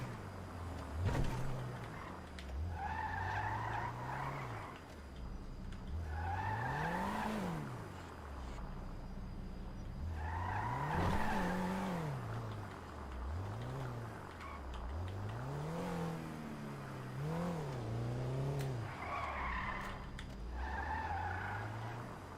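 A GTA car's engine rises and falls repeatedly as its tires squeal in long skids, over a constant low engine drone.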